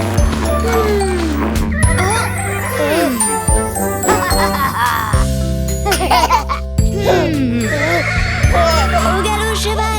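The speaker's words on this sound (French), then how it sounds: "Au galop cheval." A cartoon horse in a French nursery-rhyme scene neighs amid bouncy, bright music with jingling accents, while voices sing or speak over the tune throughout.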